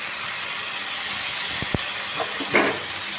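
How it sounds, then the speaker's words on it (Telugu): Green chilli paste frying in a pan for potato curry, a steady close hiss with a couple of brief knocks and a louder sputter near the end, no speech. "పచ్చిమిర్చి పేస్ట్ కొంచెం పచ్చివాసన పోయేంత వరకు వేయించుకోవాలి."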